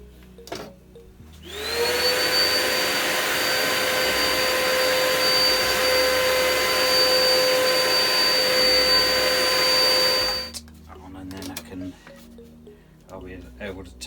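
A workshop vacuum starts up and runs with a loud, steady whine and rushing suction for about eight seconds before shutting off, with people talking quietly before and after.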